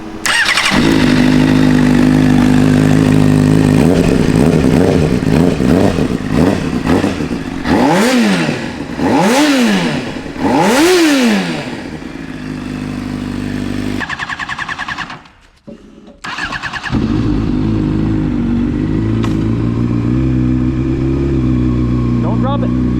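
Honda CBR600RR motorcycle engine cranking over and firing up, then revved hard in repeated rising and falling sweeps, briefly cutting out before settling into a loud, steady idle; close and dominant throughout.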